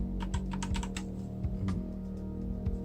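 Arrow keys on a Rapoo VPRO V720S gaming keyboard are pressed in quick clicky taps. A cluster of keystrokes comes early, then scattered single presses follow, close up, with no voice.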